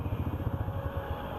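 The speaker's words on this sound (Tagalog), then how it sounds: "Ay, buhay pa palang makina ko." A motorcycle engine idling at a gas station after a full-tank fill-up, a low, steady putter of rapid pulses heard close by with no one speaking.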